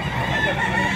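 A rooster about 8 to 9 months old, a straight comb pumpkin bird, calls close by and loud in one short, continuous vocal burst.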